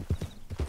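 Horse hooves clip-clop in Red Dead Redemption 2, four even, close thuds at a steady walking pace.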